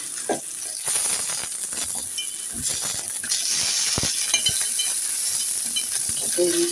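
Pumpkin and other vegetables fry lightly in a pan with a steady close sizzle, broken by occasional stirring clinks and rattles against the metal.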